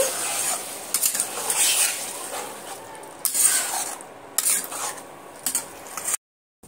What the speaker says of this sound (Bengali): আলুটাও আমি এর মধ্যে দিয়ে দেব। দিয়ে আমি হালকা হাতে এইভাবে নেড়ে দেব।